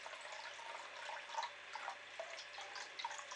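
Water carrying cultured daphnia is poured into an aquarium, a soft continuous trickle with small splashy bubbling accents, faint and close, with no talking.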